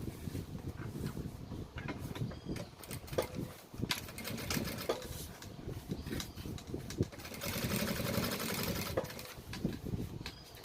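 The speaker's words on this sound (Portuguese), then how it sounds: "vou rebater aqui uma costurinha de segurança, jogando todo esse forro para trás" A sewing machine sews a safety seam along a bag lining, producing a faint, continuous mechanical whirring and rattling that stays fairly even throughout, with no voices.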